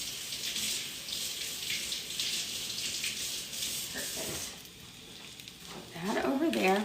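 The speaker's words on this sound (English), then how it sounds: "I'm gonna wash my hands real quick" Kitchen tap water running while hands and a knife are washed, a steady faint stream with splashing that grows louder near the end.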